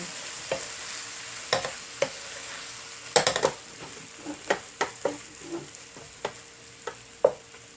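Fish cake being stir-fried in a pan for Chungmu gimbap, with a steady sizzle under repeated scraping and clacking of a utensil against the pan in irregular close bursts.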